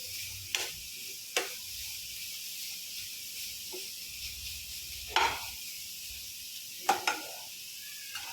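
Carrot frying in a pan for carrot halwa, a soft continuous sizzle broken by several sharp scraping stirs at irregular intervals, close and moderately loud.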